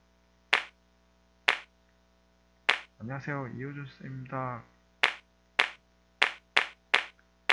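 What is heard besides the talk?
clapping sound played in Scratch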